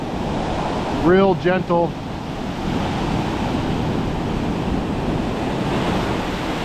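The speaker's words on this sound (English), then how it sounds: "These waves are big" Big ocean surf and strong wind roar steadily while Hurricane Ernesto passes along the Northeast coast during fishing, a loud continuous wash with wind buffeting the microphone, and someone speaks briefly near the start.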